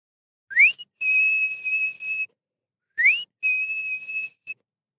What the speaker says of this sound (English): as he heard the whistle again